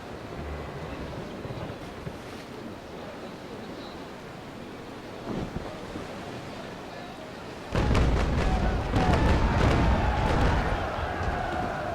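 Grape shot cannon fire booms from a sailing warship in the naval combat game Naval Action, a loud burst of rolling blasts that starts abruptly after wind and sea noise and then settles into a sustained roar.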